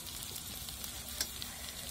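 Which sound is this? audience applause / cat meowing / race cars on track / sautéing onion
sautéing onion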